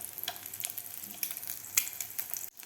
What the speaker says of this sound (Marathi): व्यवस्थित आपल्याला खालची बाजू थोडासा ब्राऊन कलर होईपर्यंत आपल्याला हे फ्राय करायचे आहेत